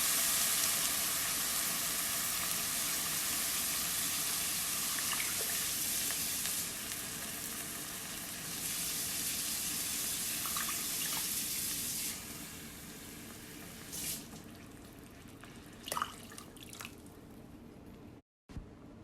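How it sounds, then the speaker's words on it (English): Water poured into a cooking pot of rice and chicken for arroz con pollo, a steady hissing sizzle and bubbling that settles down partway through, with a few small clinks and drips near the end, no voices. "I'm going to start adding in my water"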